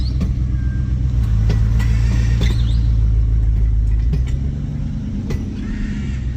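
A stock Dodge Durango on five-foot-tall tires with two-foot wheel spacers crawls in first gear in two-wheel drive at low revs, a loud, deep, steady engine rumble close by with a few clanks and creaks and no talking.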